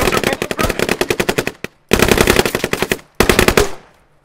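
Rapid automatic gunfire in a squad-based military video game, loud and close: a long burst of evenly spaced shots, a single crack, then two more sustained bursts with a short echoing tail.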